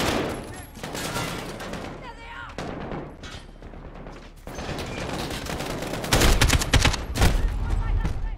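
Dense, loud bursts of automatic gunfire and heavy shots in the Call of Duty Modern Warfare campaign mission The Wolf's Den, rattling almost continuously and swelling louder toward the end, with faint game voices mixed in.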